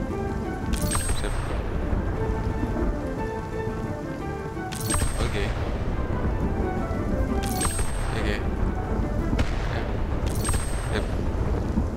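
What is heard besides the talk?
thunder and rain in video game Spiritfarer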